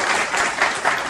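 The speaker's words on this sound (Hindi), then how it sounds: "एक बार आप अपने लिए जोरदार ताली बजाइए" Loud applause from a room full of students, a dense, continuous patter of many hands clapping at once, up close and sustained throughout with no talking over it.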